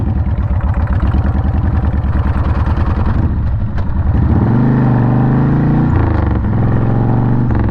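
A Harley-Davidson Sportster motorcycle engine runs loud and close while riding in third gear, with a steady low rumble that swells as the revs rise midway and holds a heavier drone to the end.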